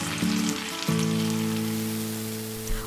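Spicy chicken burger patties topped with melting cheese slices sizzle in a pan, a steady crackle running evenly throughout with a low hum beneath.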